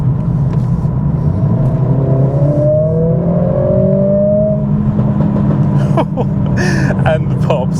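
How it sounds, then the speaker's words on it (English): Mercedes CLA45s AMG with a modified exhaust, driven in race mode: a loud, deep engine drone rises in pitch as the car accelerates from inside the cabin, followed by sharp exhaust pops and crackles near the end. "first POV drive with the new modified exhaust in the CLA45s"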